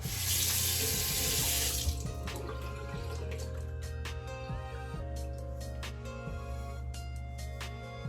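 Water runs steadily from a tap into a sink while a double edge razor is rinsed, with a brighter gush at first and then quieter trickling and taps of the razor against the basin.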